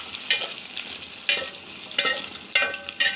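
Chopped onions and whole spices fry in ghee in a pan for ghee rice, a soft sizzle punctuated by several sharp stirring scrapes, with no talking.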